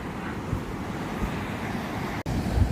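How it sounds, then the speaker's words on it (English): Constant broadband wash of surf as white water piles over a sandbank at a beach fishing spot at night, with steady wind buffeting the microphone and a brief dropout near the end. "Loads of white water as it's come piling over the sandbank."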